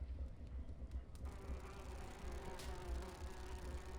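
Bees in the Grim Fandango video game buzz in a faint, continuous drone, a low hum that holds steady throughout.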